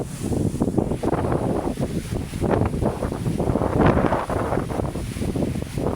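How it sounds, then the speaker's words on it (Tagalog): Strong wind at Manila Bay roars and buffets the microphone in heavy, rumbling gusts, continuous and loud with no talking. "Lakas ng hangin, guys. Napakalakas ng hangin."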